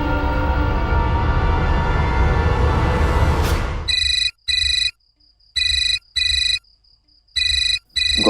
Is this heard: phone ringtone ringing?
yes